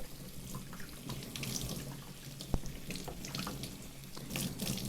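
Tap water runs into a sink while a tie-dyed shirt is rinsed, wrung and twisted under the flow, a steady faint splashing with one brief sharp knock partway through.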